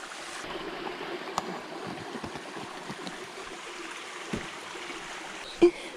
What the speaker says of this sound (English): Look at the river.